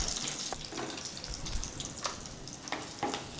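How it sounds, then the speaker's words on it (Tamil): Garlic frying in hot oil in a home kitchen, a faint continuous sizzle with scattered crackles and soft pops, heard alone without talk. "இந்த எண்ணெயில் இந்த பூண்டை போட்டுங்க."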